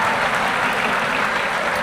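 Audience applause at a sheriff's office annual awards ceremony, a dense steady wash of many hands clapping at constant loudness, with no voices heard.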